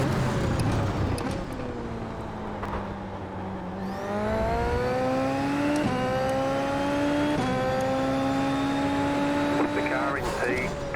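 A Super Formula open-wheel race car in iRacing at the Red Bull Ring revs hard through the gears, its engine note climbing steadily with each upshift, loud and close, while someone talks over it.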